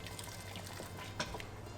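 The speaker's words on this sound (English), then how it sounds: "So I'm adding a bit more water." Water poured into a cooking pot of crunchy vegetables for a Christmas dinner, a soft close trickle and splash with a few drips and a brief louder splash near the end.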